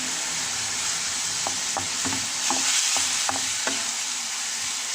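Chopped tomatoes for a spaghetti sauce frying in a pan, with a steady sizzle and a few scraping stir strokes from a utensil, close and continuous.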